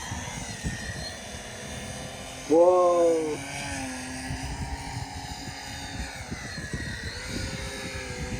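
A model VTOL fighter aircraft, a Martin 262 concept, hovers with a steady high electric motor whine over wind noise, with a brief louder rising whine in the middle; a man exclaims once.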